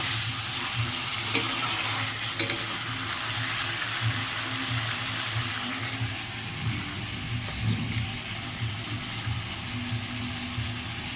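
Onions and mutton fry in oil in a pan, giving a continuous bubbling sizzle with occasional stirring scrapes and clatters.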